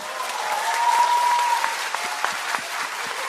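A room of party members and members of the public applauds at a Korean political talk event, a dense, steady wash of clapping that holds evenly at a fairly close distance, with a faint thin tone running through the middle.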